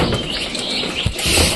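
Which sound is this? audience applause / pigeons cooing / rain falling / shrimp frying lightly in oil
pigeons cooing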